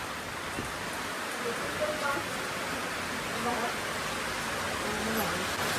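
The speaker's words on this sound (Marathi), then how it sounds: "एक नंबर पाऊस पडतोय." Steady rain falls heavily in a constant broadband hiss, with faint voices and scattered sounds in the background.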